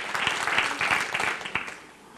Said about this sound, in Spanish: Otro aplauso para Jesucristo